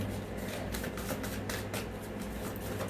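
Tarot cards are shuffled by hand, giving a steady riffling and slipping patter with soft repeated flicks, close and quiet, with no voices.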